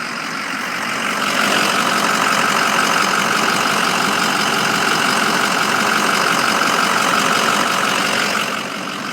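A 2005 Ford F350 dually diesel 4x4 pickup idles close by in a steady, even rumble with the typical diesel clatter, continuous for the whole stretch and with no voices over it.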